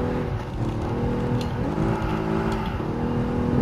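Gr N300 race car engine drones steadily on the Nordschleife in GT Sport, a continuous loud hum with slight pitch shifts as the car accelerates, no talking.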